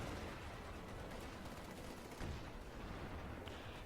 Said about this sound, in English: The 50 caliber machine gun almost gets a kill.